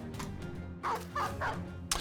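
A dog barks a few times in a medieval strategy game, Reforged, the sharp yips standing out over a quiet game backdrop with no talk.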